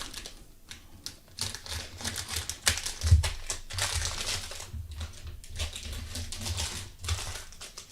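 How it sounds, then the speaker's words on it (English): Close crinkling and rustling of packaging as scissors cut open jumbo baseball card packs, with snipping and crunching sounds, irregular and busy throughout, no talking. "Got our scissors. Turn our super jumbos into jumbos."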